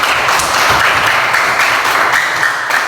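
A class of pupils in a school lesson claps their hands together, a dense, steady wash of many hands that carries evenly for a few seconds, close and fairly loud, with no talking over it.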